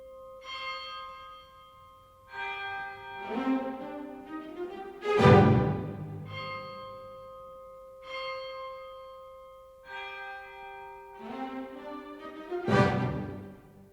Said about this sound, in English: A bell sounds a death knell.